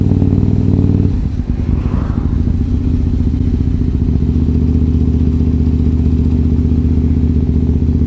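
A KTM motorcycle ridden on the road, its mid-pitched engine droning steadily and loud after a brief shift in tone near the start, close and continuous with wind rumble.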